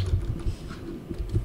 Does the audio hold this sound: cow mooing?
no